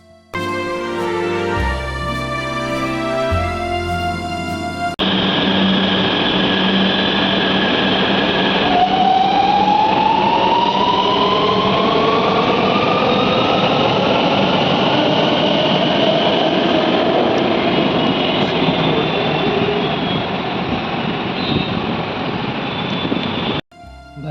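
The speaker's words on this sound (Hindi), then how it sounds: "भाई ऐसा लग रहा है ये ट्रेन चल के नहीं गई, उड़ के गई है।" Delhi-Meerut RRTS rapid rail train rushing past at speed: a loud, sustained roar of wheels and air with a rising whine, after a brief musical intro, fading abruptly at the end.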